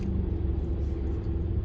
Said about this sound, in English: Damn, there's traffic going.